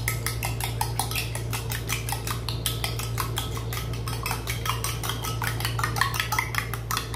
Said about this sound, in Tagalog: Haluin lang po natin ito ng maigit.